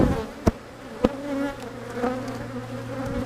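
Honeybees hum in a steady, close swarm over an opened hive during a vertical split, with a couple of sharp taps cutting through the drone.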